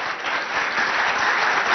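A crowd applauding as students arrive at a school quiz competition, producing a continuous, even wash of clapping at close range that holds steady throughout with no voices on top.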